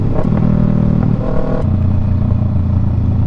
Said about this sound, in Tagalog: Sarap pang bomba nitong motor ni Daniel. Lakas ng pipe eh.